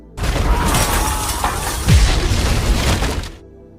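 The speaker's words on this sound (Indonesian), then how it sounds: "Namun Dean tetap meledakkan gudang itu" A warehouse is blown up in a film scene, with a loud, sustained blast of shattering debris and rumbling booms rolling on for about three seconds before cutting off.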